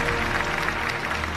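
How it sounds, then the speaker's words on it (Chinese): Audience at a Chinese television awards gala clapping, a short burst of steady applause without other sounds. "再次掌声送给我们的苏小明老师"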